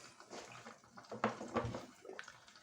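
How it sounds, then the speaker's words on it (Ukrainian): Water splashes and gurgles as it drains out of a boiler, with uneven surges and spatters at low volume. "Тепер чекаємо і спускаємо воду."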